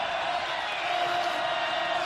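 A loud, raucous stadium crowd roars at Bobcat Stadium during a college football semifinal, a sustained wash of cheering and whooping with no breaks.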